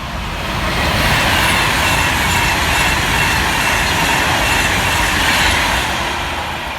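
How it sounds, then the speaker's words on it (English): An Avanti West Coast Class 390 Pendolino, unit 390121, rushes through Lichfield Trent Valley station with a loud sustained rumble and roar, rising and fading gently as the carriages pass close by, with no voices. "here comes 390-121, working 1 Alpha 66 for Avanti West Coast from Manchester Piccadilly through to London Euston."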